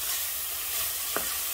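Bitter melon frying in a pan with salt, giving a steady, close sizzle with a single brief scrape of stirring near the end.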